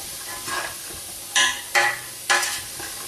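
Chopped onions sweat in a pan for a beef mince sauce with a low sizzle, while three quick scraping stirs sweep through the pan at close range.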